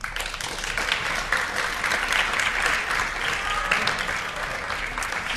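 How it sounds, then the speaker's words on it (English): An audience applauds the winning group of a student debate on sustainability and sustainable energy, with dense, continuous clapping that holds at an even level throughout. "could you please give an applause to the winner of Group 1"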